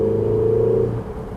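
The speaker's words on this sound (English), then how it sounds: "the flat plane crank V8 from Ferrari is not a great sounding engine" A Ferrari California T's flat-plane crank V8 with equal-length exhausts drones loudly and steadily, close by, in a smooth mid-pitched tone that drops away after about a second.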